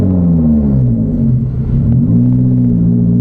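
A JDM car's engine rumbles low and steady from inside the cabin as it drives, with a slight rise and fall in pitch and no talking.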